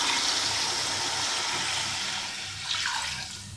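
A jug of water poured into a cooking pot of camel meat nihari gives a steady gushing splash that holds for a few seconds and then tapers off near the end.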